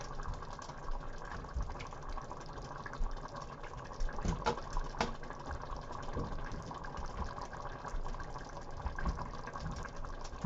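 Water runs and splashes steadily while a can is rinsed out in a home kitchen, a continuous gushing wash with a few brief clatters midway.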